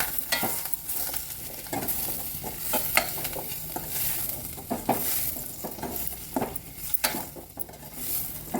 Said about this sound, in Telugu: వేసుకొని కాస్త వేపాలండి